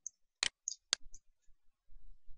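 Sharp mouse clicks on a software button in 3D assembly software, a few crisp, close clicks spaced irregularly with faint low rumble between them.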